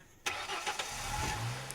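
A car engine turns over with a sudden start, then settles into a low, steady rumble with small rough pulses. It sounds near and fairly quiet, and no one speaks.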